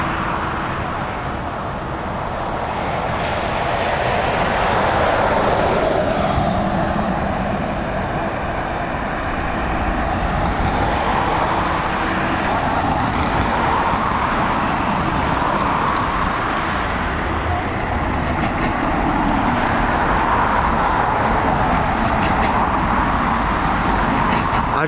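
A Ryanair jet arriving at Dublin Airport from Poznan makes a steady, broad roar that holds at a fairly even loudness, swelling slightly, for the whole stretch.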